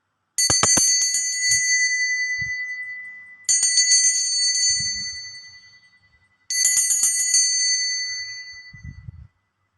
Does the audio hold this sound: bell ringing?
yes